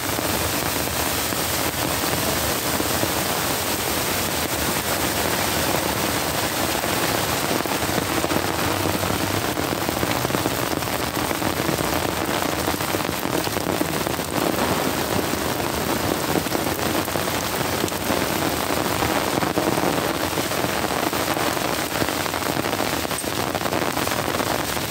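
Heavy rain pouring down hard near a creek, a dense, loud, unbroken hiss and patter that holds steady throughout.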